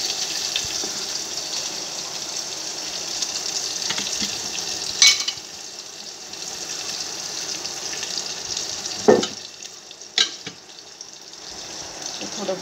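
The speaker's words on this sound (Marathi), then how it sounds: "थोडं फ्राय होऊ द्यायचं" Crushed garlic and green chili frying in a pan, a steady soft sizzle throughout with a few sharp clinks and scrapes of a utensil against the pan.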